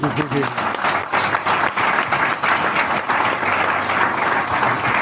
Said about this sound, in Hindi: तालियां तो मार दो।